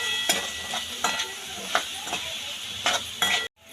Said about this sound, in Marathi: आता ह्यामध्ये आपले जे लाल भोपळ्याचे आपण काप करून घेतले आहेत ते परतून घेऊया